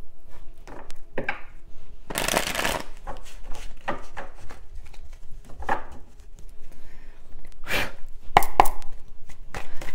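Tarot cards being shuffled by hand: a series of papery riffling and slapping bursts at close range, irregular in rhythm, with short pauses between them and no talk.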